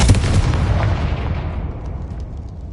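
Confringo spell explosion in the Hogwarts Legacy video game, one loud, deep blast that rolls out into a long rumbling decay over a few seconds.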